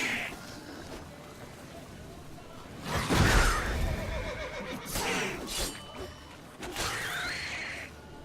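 Roach the horse whinnies several times in The Witcher 3, bright neighs rising around three seconds in and again near five and seven seconds, over a busy game soundscape with faint hoof clatter and mechanical creaks.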